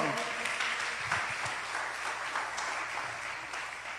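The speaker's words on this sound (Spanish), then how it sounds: "Dale un aplauso al Señor." A church congregation applauds during a sermon, a soft, continuous wash of many hands clapping at a distance, fairly faint and steady throughout.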